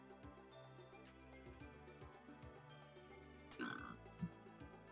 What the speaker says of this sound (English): Why did you burp?